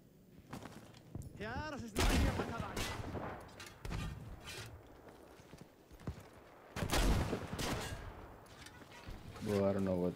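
Battlefield V combat with a tank nearby: sharp gunshots and heavy blasts come in bursts between quieter gaps, mixed with game effects and a player talking.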